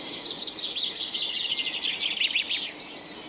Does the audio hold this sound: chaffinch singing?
yes